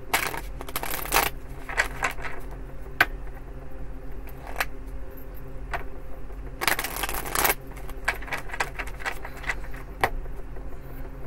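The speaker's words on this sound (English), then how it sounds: "two more shuffles" Tarot cards shuffled up close during a weekend reading, with two quick riffling bursts and scattered soft clicks and taps between them.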